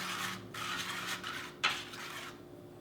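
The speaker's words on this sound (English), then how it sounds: "I'll just take a whisk and I'll just mix this up" A whisk scraping and rattling briskly against a bowl as a cinnamon sugar mixture is mixed, quick rhythmic strokes close and quiet with one sharper knock.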